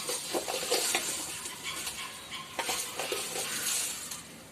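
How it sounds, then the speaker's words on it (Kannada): Three spoons of oil heat in a pan for a tempering while a pudina chutney is made, giving a steady low sizzle with stirring scrapes and faint clinks of utensils throughout. "3 ಸ್ಪೂನ್ ಎಣ್ಣೆ ಹಾಕಿ ಒಗ್ಗರಣೆಗೆ"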